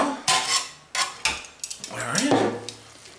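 A utensil stirs gravy in a slow cooker, with a few clinks and scrapes against the pot at an irregular pace, close by. A voice can be heard faintly.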